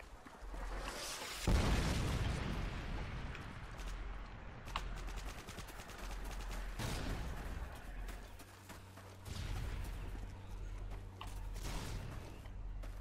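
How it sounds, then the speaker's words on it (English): In Call of Duty: Modern Warring 2 on PS3, a Predator missile strike lands amid dense gunfire: a loud boom at the start, then continuous rattling shots and further heavy blasts rolling through the whole stretch. "Friendly Predator missile inbound"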